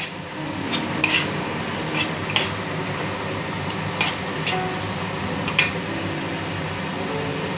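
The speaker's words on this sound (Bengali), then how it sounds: "চিনিটা দিয়ে একটু নেড়ে নিই" Sugar and dry spices being stirred in a hot pan, with soft scraping strokes and occasional sharp clinks of the spoon over a low steady hiss.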